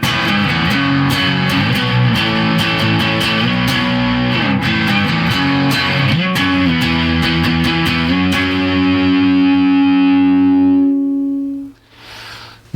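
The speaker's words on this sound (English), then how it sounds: "all the way up on the distortion" Boss DS-1 distortion pedal with its clipping diodes removed and the distortion knob turned fully up, giving a loud, buzzy electric guitar that strums sustained chords, then a long ringing chord that fades and cuts off.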